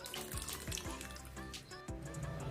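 Water splashes and pours into a pot of dal makhani being cooked, a close gurgling stream with several splashy surges and no talk.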